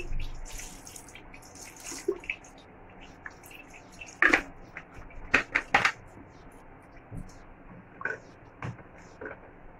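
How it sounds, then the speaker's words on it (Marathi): Cold water poured over freshly boiled and drained pasta in a home kitchen, a soft running and splashing water sound with a few sharper drips and splashes near the middle, heard close. "आता हे काढून झाले तर ह्याच्यावर मी थंड पाणी टाकते"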